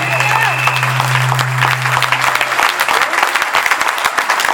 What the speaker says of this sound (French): Est-ce que quelqu'un peut acclamer le Seigneur?